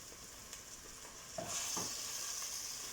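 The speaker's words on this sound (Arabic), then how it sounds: "راح ابدي احمس العدس الى ان اشوفه تطلع ريحة العدس محموص" Lentils stirred and roasted in a pan with softened onion, giving a soft steady sizzle with a couple of scraping stir strokes midway; quiet, no voices.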